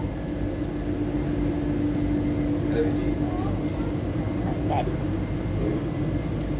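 A train rumbles steadily with a constant high-pitched whine, faint squeaks and clanks rising over the low rolling noise as it begins to move.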